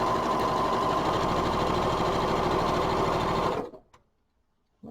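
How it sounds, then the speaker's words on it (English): A sewing machine hums in a steady, fast, even stitching rhythm while chain piecing pairs of fabric pieces for a scrappy four patch block, close and loud, then stops abruptly into near silence. "I'm going to just sew along the opposite side in those pairs"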